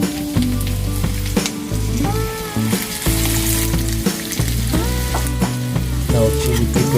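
Sliced pepper sizzling in a pan of garlic butter, a loud continuous frying hiss with clatters of stirring and scraping throughout, close up and without speech.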